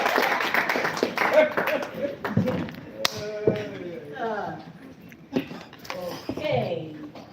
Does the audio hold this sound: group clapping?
yes